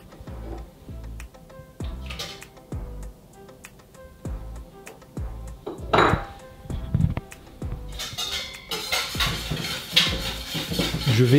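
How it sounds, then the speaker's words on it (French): Milk and two eggs are whisked in a bowl, a wire whisk ticking and clinking against the sides in a steady rhythm, growing faster and busier toward the end, with no talking. "Nous allons dans un premier temps mélanger dans un récipient à l'aide d'un fouet le lait ainsi que nos 2 œufs"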